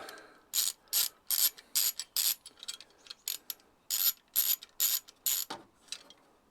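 A bolt being worked out of an airsoft gun with a ratcheting tool, a close, crisp run of rapid clicking bursts in quick rhythmic clusters, alone with no talk.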